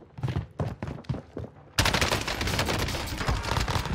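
LAPA SMG fire in Call of Duty Warzone: several short separate bursts of shots, then a sustained loud stream of rapid automatic gunfire for the last two seconds.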